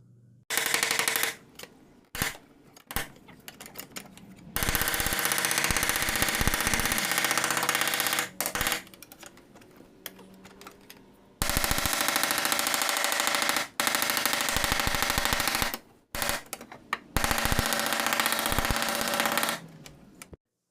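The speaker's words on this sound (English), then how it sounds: "I've got a pry bar behind that dent. I'm pushing out on that body line as I tap down the crown." A dent is tapped down along the crown of an Infiniti car fender while a pry bar pushes out the body line from behind. Rapid machine-gun-like bursts of metallic tapping start and stop repeatedly, loud and close, with no talking.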